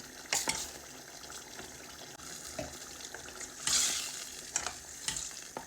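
Eggplant cooks in pepper sauce over medium heat, a soft continuous bubbling simmer with occasional louder sputters and scrapes in the pan, close by and without talk.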